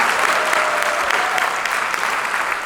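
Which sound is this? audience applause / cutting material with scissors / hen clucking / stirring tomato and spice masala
audience applause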